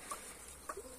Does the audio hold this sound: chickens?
yes